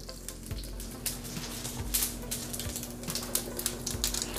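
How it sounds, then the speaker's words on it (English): Mustard seeds spluttering in hot oil inside a Ninja Foodi while sambhar is being made: a rapid, irregular stream of small pops and crackles over a steady low hum. "half a teaspoon of mustard seeds. It has to splutter."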